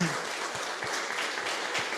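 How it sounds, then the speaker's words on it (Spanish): A church congregation applauds together, a steady wash of clapping filling the space at moderate level with no pauses. "dale un fuerte aplauso al Señor por eso."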